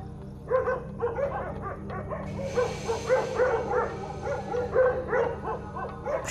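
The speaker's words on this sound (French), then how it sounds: "une meute de chiens errants est déjà là" A pack of stray dogs on an Ethiopian street barks at a hyena, sending up a fast, repeated chorus of yapping barks, close and fairly loud, in uneven bursts over a low background hum.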